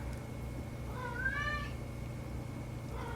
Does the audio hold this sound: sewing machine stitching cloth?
no